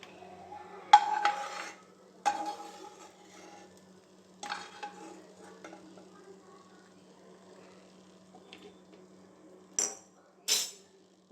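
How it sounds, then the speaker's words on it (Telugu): Cashews frying in a pan until golden brown, heard as a few separate bursts of stirring and scraping with light sizzle between them, then two short sharp clinks near the end, close by and without talking. "జీడిపప్పులు ఇలా గోల్డెన్ బ్రౌన్ కలర్ వచ్చేదాకా వేయించుకోవాలి"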